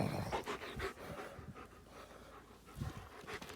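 A German Shepherd pants in quick, rhythmic breaths close by, soft and steady with no talking.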